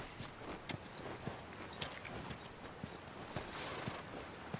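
Horse hooves clip-clop in a steady walking rhythm within The Last of Us Remastered game, faint and irregular taps over a soft hiss, no talk.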